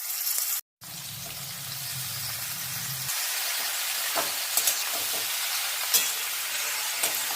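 Capsicum and potato pieces fry in oil with black cumin and turmeric, a steady broad sizzle with a brief dropout near the start, then a low hum fading out under continuous hiss and occasional soft spatters.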